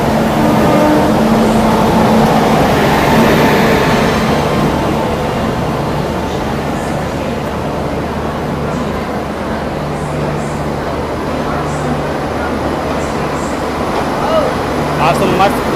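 Sampoorna Kranti Express passenger train arriving in heavy rain, a steady dense rumble of wheels and downpour continuing throughout, with a voice speaking over it.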